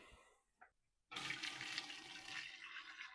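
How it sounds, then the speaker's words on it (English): Chicken stock poured from a cooking pot through a strainer into another pot, a sudden steady rushing splash of liquid after a brief quiet clink, continuing loud and even to the end. "Strain it into another pot."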